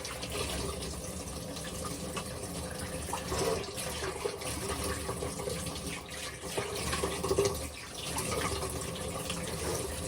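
Running water splashes steadily from a shower while someone rinses off their arms, a soft, continuous wash with small shifts in the flow and no talking.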